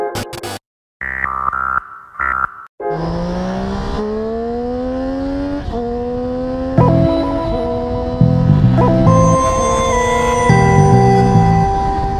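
A streetfighter motorcycle engine with a 270-degree crank runs loud and close, cutting out briefly at first, then its note climbs steadily and holds through repeated revs.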